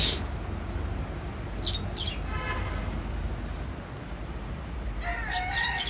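A rooster crows twice, fairly close, at a rooftop chicken and pigeon coop in the morning, over a steady background hiss and hum.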